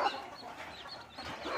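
A hen on a desi poultry farm clucks nearby in a brief soft burst, standing alone over a faint background.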